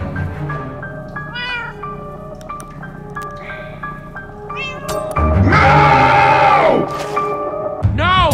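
A cat meows in the video game Minecraft Story Mode: several short rising meows over game music and effects, then a long, loud, drawn-out yowl, and a final meow at the end.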